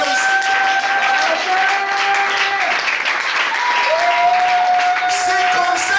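A church congregation bursts into sustained loud applause and cheering to acclaim the Lord, a dense wash of clapping with a sustained musical tone over it and voices in the crowd.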